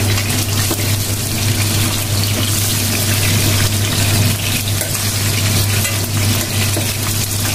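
Vegetables being lightly fried in a pan give a steady, close sizzle with soft stirring and scraping, and no one speaks.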